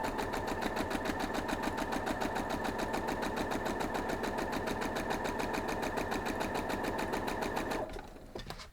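A sewing machine stitches quilt block pieces, a half square triangle onto a stripe block, running at a fast, steady mechanical rhythm up close for nearly eight seconds before stopping.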